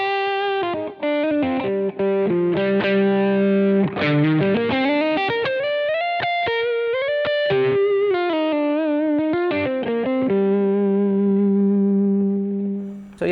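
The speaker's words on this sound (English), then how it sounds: "So yeah, kind of a lightly overdriven sound, a more overdriven lead tone." Boss GX-10 guitar effects processor playing a lightly overdriven lead guitar tone, a continuous melodic line of sustained bent notes and quick runs, loud and alone with no talking.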